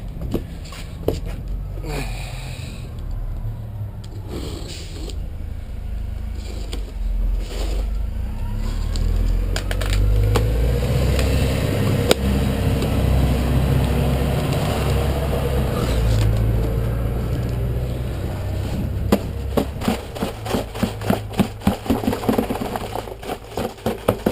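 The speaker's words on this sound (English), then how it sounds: "Just cars going by." Cars passing on a nearby road outdoors, a steady broadband engine and tire rumble swelling and fading across the stretch, with wind noise and a few sharp clicks toward the end.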